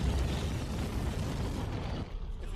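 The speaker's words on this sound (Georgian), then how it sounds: "მილსადენი აფეთქდება." A pipeline explodes on an offshore platform in a film, a loud sustained roaring blast with deep rumble that fills the scene before easing off slightly near the end.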